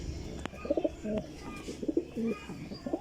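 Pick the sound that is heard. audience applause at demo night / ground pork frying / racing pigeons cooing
racing pigeons cooing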